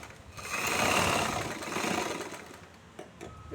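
A sewing machine stitching a churidar runs with a steady, fast mechanical whir that swells and slows twice, ending with a few soft clicks as it stops.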